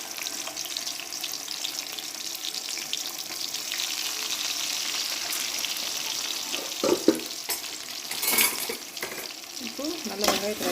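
Sliced onions with salt sauté in hot oil, giving a steady close sizzle with occasional sharp scrapes and clinks from stirring, while a voice speaks briefly near the end.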